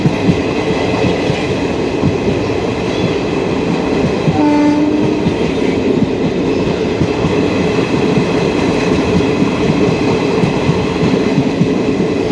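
A train rumbles steadily along the tracks close by at Pudukkottai's first platform, a constant loud roar with a brief higher tone partway through.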